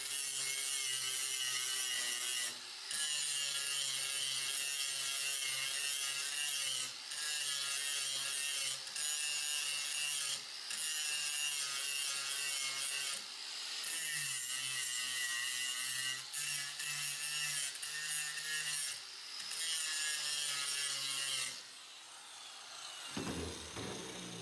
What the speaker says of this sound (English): we'll just take our regular flex cut wheel and we'll get some of that material off